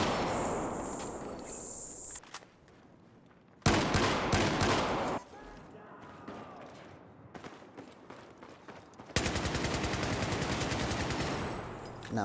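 A shotgun fires in Battlefield 4 as loud blasts ring out in the game, with bursts of rapid firing between quieter stretches of game ambience.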